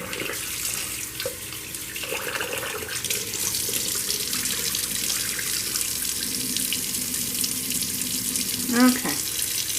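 A kitchen tap runs steadily while rice is rinsed under it for Jollof rice, the water hissing continuously at close range with a brief clatter near the end.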